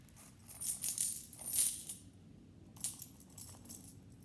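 Coins shift and jingle inside a zippered change purse, two bursts of bright metallic clinking close up with a quiet pause between them.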